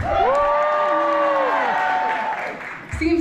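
Audience on the right side of a hall at a Republic Day commemoration cheering loudly, with sustained whoops and voices across the whole clip and a brief lull near the end.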